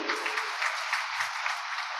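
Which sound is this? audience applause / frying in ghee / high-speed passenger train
audience applause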